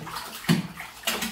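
Water splashing and sloshing in a bath as a small child is washed, with two brief close splashes over a quiet watery background.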